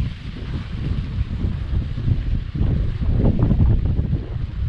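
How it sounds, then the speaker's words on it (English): On an outdoor day with kookaburras, gusty wind buffets the microphone in a low, steady rumble that swells and eases with each gust. "Windy day. Windy little day."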